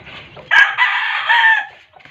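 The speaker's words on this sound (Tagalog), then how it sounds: "pinapakain ko yung mga alaga kong manok dito guys" A rooster on a game farm gives one loud, close cock-a-doodle-doo crow lasting over a second, with faint chicken clucking before and after.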